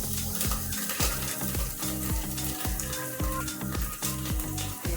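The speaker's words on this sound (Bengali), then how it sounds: "এবার একটু মশলাটা কষে নেবো।" Spice masala with ripe tomatoes being stir-fried in a pan, a steady sizzle broken by regular scraping strokes of a spatula, close and fairly loud with no one speaking.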